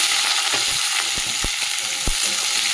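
Chopped onions and a bay leaf frying in hot oil, a steady close sizzle with a few sharp stirring knocks against the pan.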